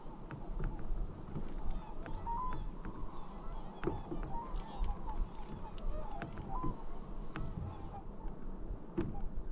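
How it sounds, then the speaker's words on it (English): A flock of geese honks repeatedly from a distance, heard from a canoe on a fall trip. The calls overlap faintly over quiet wind and water noise. "It's a lot of birds coming there."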